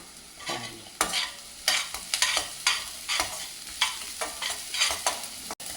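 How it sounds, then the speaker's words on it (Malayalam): Garlic, ginger, green chili and curry leaves sautéing in a hot pan for egg rice, with a quiet sizzle under a steady run of sharp spatula scrapes and knocks roughly every half second, close up and with no talking. "ആദ്യം തന്നെ വെളുത്തുള്ളി വഴറ്റി പിന്നെ ഇഞ്ചി പച്ചമുളക് കറിവേപ്പില വഴറ്റി"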